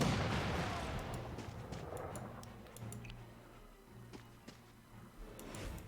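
In the video game Banner of the Maid, artillery fire booms at the start and trails off into a sparse scatter of distant thuds and ticking clicks, fading over several seconds.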